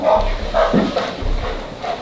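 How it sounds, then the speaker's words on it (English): A dog brought into a county commissioners' meeting gives several short yips and barks, fairly close and moderately loud over a room murmur. "we heard Skip was gonna be here, so we figured we'd bring a dog"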